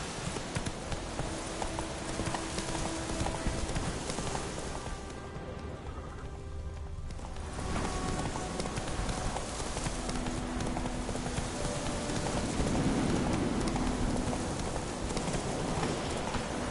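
Horse hooves clip-clop at a steady walking rhythm in a PS4 video game, accompanied by a light rain-like wash of ambient noise that briefly drops out midway; no talking.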